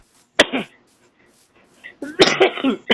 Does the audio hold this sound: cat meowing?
no